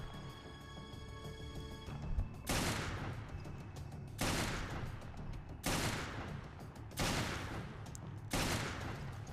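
Handgun gunfire in the Resident Evil Revelations video game: several loud, sharp shots spaced a second or two apart, each followed by a ringing decay over a steady game background.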